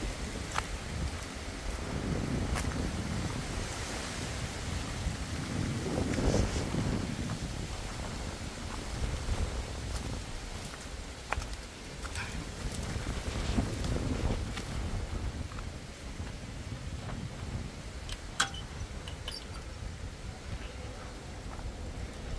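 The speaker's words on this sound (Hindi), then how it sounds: "हवा की भी आवाज होती है, सुनिए" Wind blows steadily outdoors with gusting surges and rustling, buffeting the microphone at moderate level for a long stretch.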